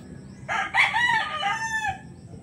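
A lazy roundhead sweater gamecock rooster gives a single loud, clear crow of about a second and a half, near and alone over faint background noise.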